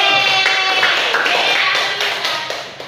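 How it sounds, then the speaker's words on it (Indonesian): A classroom group claps in a loud, brisk burst of applause with voices mixed in, tapering off toward the end. "tepuk tangan teman-teman"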